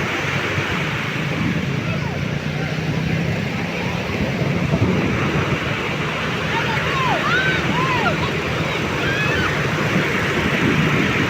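Sea waves breaking on Aare Ware beach near Ganpatipule, Ratnagiri, Konkan coast, make a steady, loud roar of surf with wind buffeting close by, continuous throughout with no clear separate crashes.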